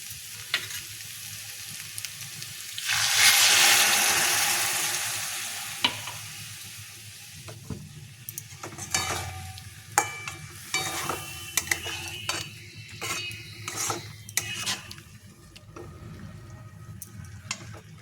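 Banana flower with spices frying in a pan, a steady sizzle with a brief loud hissing burst early on, then repeated scraping and tapping as a utensil stirs the mixture.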